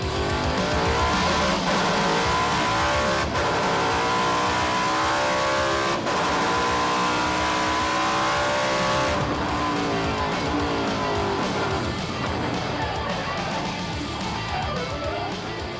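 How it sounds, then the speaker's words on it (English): A Trans Am race car at Watkins Glen in 2021 revs loudly and spins its rear tires to keep them warm, with a sustained roaring engine, shifting pitch and tire squeal, close and continuous. "light them rear tires up a little bit. Keep them warm."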